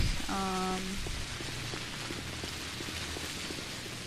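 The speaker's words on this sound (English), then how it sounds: "Soft pitter-patter of rain." Soft, steady rain falls in the video game Pathologic, a continuous gentle patter with scattered drops, preceded by a brief tonal game chime at the start.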